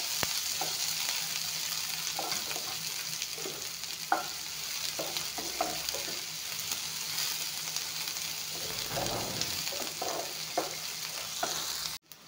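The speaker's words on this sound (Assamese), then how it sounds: "পিঁয়াজখিনি অলপমান ভাজি ল'ম।" Chopped onions fry in a pan for an oats poha dish, giving a constant loud sizzle broken by repeated scraping stirs of a utensil, with no talking over it.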